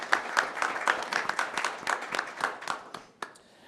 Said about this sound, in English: If we could all give them a round of applause for making this event possible.